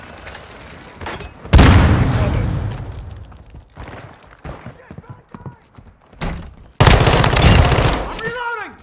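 Call of Duty Modern Warfare II firefight: a loud flashbang blast with a long booming tail, scattered gunshots, then another heavy explosion, with shouted voices between the bursts.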